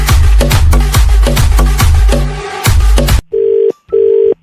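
A telephone call being placed: rhythmic ringing or music-like pulses for about three seconds, then two steady electronic tone bursts, loud and with no talk.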